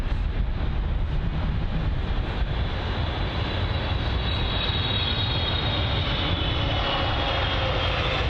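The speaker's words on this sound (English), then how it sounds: "the British Airways 777 actually." A British Airways Boeing 777 arrives at Heathrow, its engines a loud, steady broadband roar with no letup and no voices.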